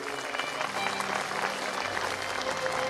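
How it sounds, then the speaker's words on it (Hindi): Audience applause at a Shrimad Bhagwat Katha religious gathering: dense, sustained clapping from a crowd, fairly close and steady throughout. "आप लोग भी एक बार जोरदार ताली बजा करके"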